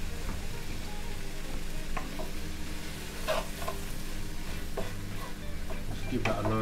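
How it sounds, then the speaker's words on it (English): Cheese and onion pie filling stirred in a pan, a steady close sizzle with soft scraping strokes of the spoon running underneath. "Just give that a nice little stir."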